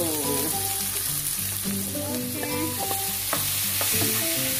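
Tomato sautéing in a pan for ginisang sayote with sardines, a continuous close sizzle with stirring scrapes and no talking.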